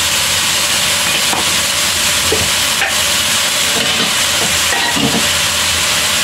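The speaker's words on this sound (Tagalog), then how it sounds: "Saute lang natin yung ating meat" Chicken pieces sauté in a hot pan for a curry, giving a steady, loud sizzling hiss close to the listener. A few soft stirring clinks break the constant frying.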